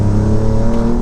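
A tuned 600 hp Alfa Romeo Giulia Quadrifoglio engine drones loud and close in a steady, rich growl that holds throughout without a break.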